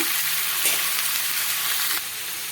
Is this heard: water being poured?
no